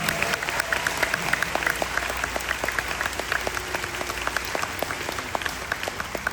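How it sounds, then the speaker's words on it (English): A Star Wars convention panel audience at Spacecon 2026 applauds, producing dense, steady clapping that fills the whole stretch at an even, sustained level with no talk over it. "And yeah, applaud that, please."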